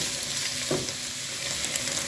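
Cabbage sizzles and crackles steadily as it stews in a hot frying pan, with a brief scrape of stirring partway through.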